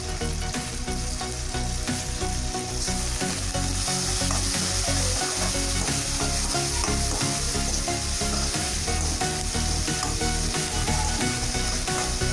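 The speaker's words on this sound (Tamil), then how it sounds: "பாருங்க நல்லா வெங்காயம் வதங்கிட்டே இருக்கு." Onions with a little salt sauté in a pan, a loud continuous sizzle and crackle heard close up, with stirring scrapes mixed in and no voices.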